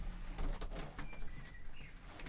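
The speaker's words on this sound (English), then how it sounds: "probably hear the birds cheeping now as well" Birds cheeping faintly outside an open window on a warm day, soft cooing and short chirps over a quiet room hum.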